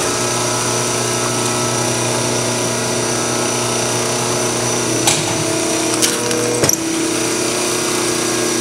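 A 1991 Challenge EH3A three hole paper drill on 230 volt single phase power runs a cycle, giving a steady motor hum with a few short mechanical clunks near the end, close and fairly loud.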